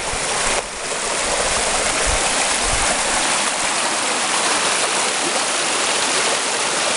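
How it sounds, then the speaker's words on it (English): A small creek at Crescent Creek runs steadily and close by, a continuous broadband rush and trickle of flowing water that holds an even level throughout with no voices. "Beautiful little creek."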